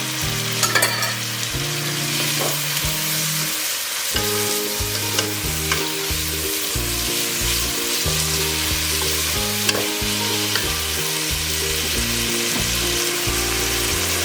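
Onion fries with ginger and garlic paste in a pan, a steady hiss and crackle that runs beneath louder rhythmic background music for the whole stretch.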